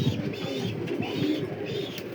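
Belgian racer pigeons cooing close by, soft repeated throaty coos overlapping in a continuous murmur with a few brief higher chirps.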